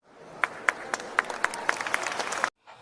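A small group claps for Aisha, starting with a few sharp hand claps that quickly build into dense, steady applause for about two seconds before stopping abruptly.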